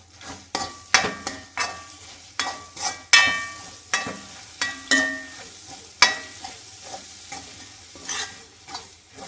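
Egg and tomato thoran being stirred in a pan, a utensil scraping and tossing in repeated uneven strokes over a soft sizzle, fairly close with no talking.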